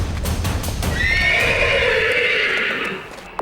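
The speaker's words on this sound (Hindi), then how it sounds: "अरे कोई ढंग से बांधो इस बिन मालिक के बिगड़ेल घोड़े को।" An unruly, ownerless horse gives a loud, close whinny lasting about two seconds, preceded by a few hoof clops and a low rumble of movement.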